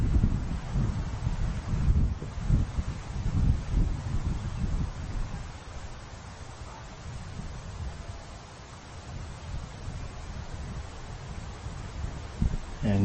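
Gusty outdoor wind buffets the microphone on a San Francisco disc golf course, a steady rumbling rush that swells and eases over several seconds, with no talk.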